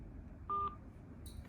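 A single steady dialing tone sounds from a Diliberto DT35 smart watch placing a Bluetooth phone call, brief and clear over a low background hum, with a faint chirp just after.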